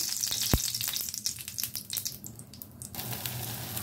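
Close, steady sizzle and crackle of an egg-batter-dipped paratha frying in a little oil in a pan, with one sharp spatter early on and a brief stir.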